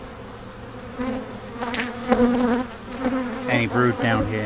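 Aggressive honeybees buzz densely around a hive being opened for inspection, a steady close drone with overlapping wingbeat tones, while a person speaks briefly over the swarming sound.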